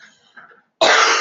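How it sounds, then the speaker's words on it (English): A single loud, harsh cough bursts out near the mic after faint background murmur during a grant program Q&A session. "And I'm going to cough."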